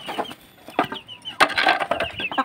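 Chickens peck at feed mixed with vegetables and plants. Close clucks and soft calls mix with scratchy pecking sounds in irregular bursts.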